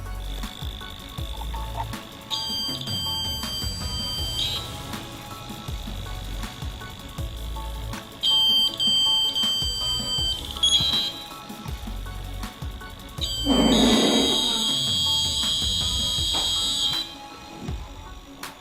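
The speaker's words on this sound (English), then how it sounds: "So if someone tries to enter, this buzzer starts buzzing, and I have named this project Laser Theft Alarm." A homemade laser theft alarm buzzer sounds in loud, steady tonal bursts, with several separate buzzing stretches across the clip and a strongest, longest burst near the end.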